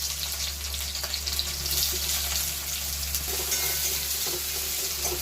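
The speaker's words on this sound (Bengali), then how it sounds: "পেঁয়াজটাকে আমি প্রথমে একটু ভাজা ভাজা করে নেব" Onion frying in a pan with cumin seeds for a curry, a steady close sizzle with occasional stirring scrapes throughout, no talking.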